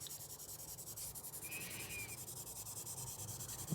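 Fine sandpaper rubs steadily over the varnished body of a 1/24 Italeri BMW 320 Group 5 scale model, a soft continuous scratching with a repetitive back-and-forth rhythm, close and quiet, with no talk.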